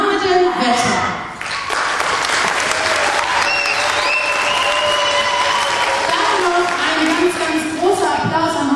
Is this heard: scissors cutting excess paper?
no